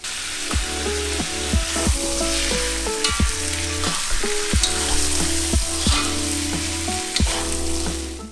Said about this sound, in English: After that, put in the pumpkin and give it a good mix.